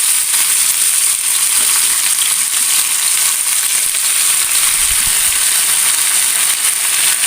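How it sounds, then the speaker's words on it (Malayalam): Whole spinach leaves go into hot oil and produce a loud, dense, continuous hiss of sizzling with a soft thump or two beneath it. No voices. "ഇനി നമ്മൾ അതിലേക്ക് ചീരയുടെ ഇല ഇട്ട് കൊടുക്കുക"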